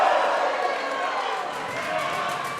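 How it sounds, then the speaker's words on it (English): A wrestling crowd at a live RCW show roars in a steady, loud wash of cheering and noise that holds throughout. "This crowd is electric."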